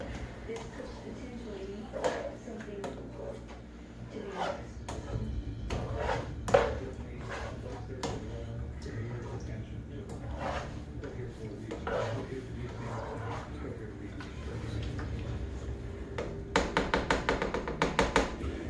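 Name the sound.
stirring meat and pasta sauce in a pan with a spatula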